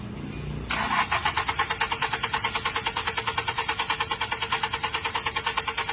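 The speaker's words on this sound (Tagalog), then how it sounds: "Kita natin na napakalakas ng cranking, ibig sabihin malakas yung baterya." A car engine with a strong battery cranks in rapid, even bursts, then catches and runs steadily, heard up close and loud without anyone talking.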